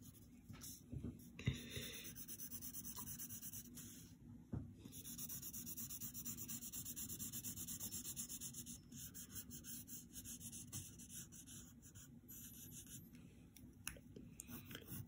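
Soft, steady scratching of pencil graphite rubbed onto paper while shading gray on a cartoon character's shoes, quiet and close, with a few brief pauses in the strokes.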